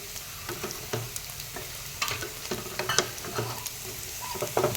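Spoon stirring chicken curry in a pan just after water goes in, wet sizzling and scraping strokes in an irregular rhythm, close and moderately loud, with no voices.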